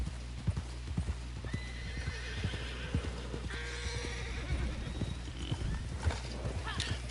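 Horse hooves clip-clop steadily with a whinny and neighing in the Red Dead Redemption game on PlayStation 4, mid-loud over a low ambient hum.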